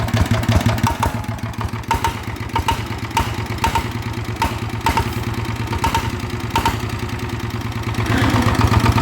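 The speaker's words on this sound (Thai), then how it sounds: "อันนี้แคมมันดังนะแคมมันดังแก๊กๆๆเนี่ย" A loud, close engine with a broken valve retainer and a dropped valve idles with a rough, steady rumble, overlaid by a rapid metallic ticking clatter from the valvetrain.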